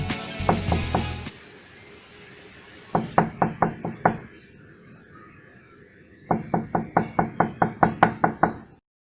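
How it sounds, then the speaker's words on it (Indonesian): Knuckles rap on a door in three quick rhythmic sets of sharp, evenly spaced knocks, loud and close, with brief pauses between the sets. "Sebelum masuk ke rumah, kita harus mengetuk pintu terlebih dahulu."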